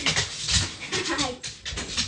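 Dog panting and whimpering indoors in a room, quick rhythmic breathy pants with small whines close to the microphone, mixed with some speech.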